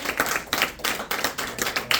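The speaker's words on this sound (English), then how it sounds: "let's just do this by a round of applause for Curves Day" A small group gives a round of applause for a lunch-with-parents day, with steady, closely spaced hand claps at moderate loudness and no talk over them.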